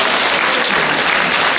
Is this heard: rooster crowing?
no